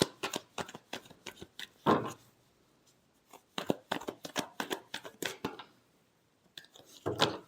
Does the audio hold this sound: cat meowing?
no